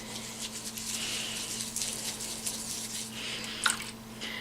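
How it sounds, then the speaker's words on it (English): Close, quiet squishing and dripping as a makeup brush is swished and rinsed in water, with soft wet patters and one small clink, no talking. "Let me rinse it out in some water"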